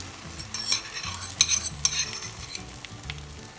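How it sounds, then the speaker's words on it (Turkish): Egg batter is poured over potatoes frying in a pan, giving a soft, continuous sizzle with light stirring scrapes and small crackling bursts, fairly quiet and close, with no talking. "daha önce hazırladığım yumurtalı harcımı üzerini tamamen kaplayacak şekilde döküyorum"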